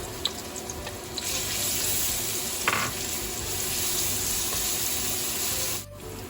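Garlic and coriander root stir-frying in hot oil for Thai pork spring rolls, a steady broadband sizzle running throughout with a brief scrape of stirring near the middle, fairly quiet and without voices.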